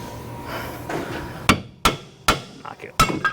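A brass hammer strikes the end of a Ford Escape front axle during a wheel bearing replacement, delivering four sharp metallic knocks at a quick irregular pace, close and loud after a moment of shuffling.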